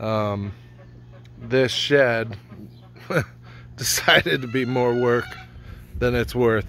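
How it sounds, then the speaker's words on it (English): Backyard chickens clucking and squawking near a shed, loud and close, in bursts that overlap and alternate with someone talking. "so excuse the chicken noise."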